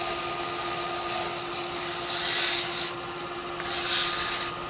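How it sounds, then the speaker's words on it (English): Steady abrasive sanding of wet eucalyptus on a wood lathe, a continuous rough rubbing hiss that swells and dips slightly, close by with no talking. "Can't really do a lot with the sanding on this because it's ringing wet"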